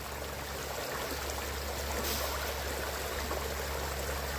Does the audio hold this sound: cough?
no